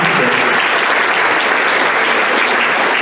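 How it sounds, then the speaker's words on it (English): Dense, steady applause from an audience at a school district address, loud and continuous throughout, with no speech over it. "a round of applause for everybody involved in that project"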